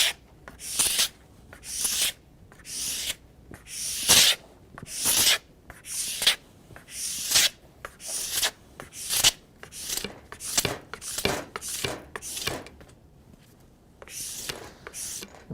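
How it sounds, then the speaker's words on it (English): Plastic scraper pulled repeatedly along a race ski's base to strip off excess cold-temperature wax, a steady series of close, raspy scraping strokes in an even rhythm with brief pauses between passes. "I want to scrape off as much wax as I can"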